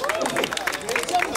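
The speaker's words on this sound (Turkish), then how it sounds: "Bekir Pehlivan'ı alkışlıyoruz." Crowd applauding a wrestler at an outdoor oil-wrestling festival, dense, close clapping with voices and babble mixed in, brief and steady throughout.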